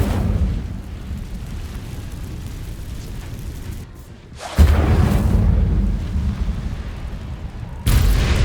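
Incendio fire spell from Hogwarts Legacy: loud, roaring whooshing bursts of flame over a constant rumbling bed, with a sharp deep blast midway and another abrupt burst near the end.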